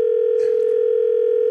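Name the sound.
telephone dial tone calling a radio show caller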